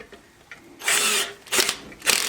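Power drill set to low torque driving screws and washers to mount a HART 6-inch bench grinder, three short whirring bursts of rising loudness separated by pauses, close by, no talk.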